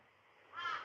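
A single crow gives one short, harsh caw that swells briefly above quiet background hiss, fairly close and alone.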